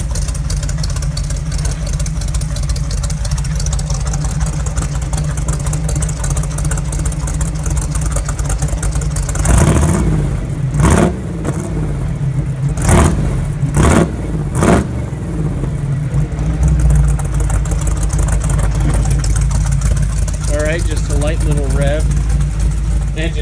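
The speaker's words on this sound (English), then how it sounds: "See if I can maybe rev it up a little bit." Cold 1978 Jeep CJ7 engine idling with a loud steady low rumble, then revved in several short blips before settling back to idle, with someone talking over it.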